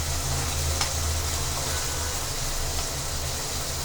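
Eggplant sizzles as it is added to frying potatoes in a pan, giving a steady, close hiss with faint stirring scrapes and no talking.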